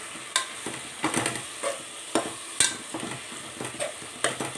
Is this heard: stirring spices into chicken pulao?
yes